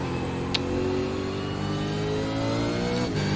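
A V8 Supercar engine revving in the iRacing sim, a continuous mid-pitched engine note that climbs steadily with a couple of brief clicks, alone without talk.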